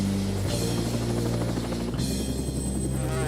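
Helicopter in flight with a steady, loud rotor thrum and engine whine, the pitch shifting twice as it manoeuvres.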